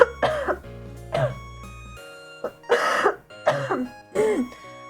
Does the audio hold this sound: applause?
no